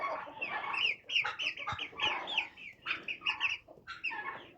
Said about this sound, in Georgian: ეს ქათამია. აი ამის შვილები არიან